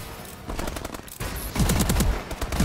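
Rapid automatic weapon fire rattles in Call of Duty: Advanced Warfare, with short bursts early on and then a louder, faster volley of close shots toward the end.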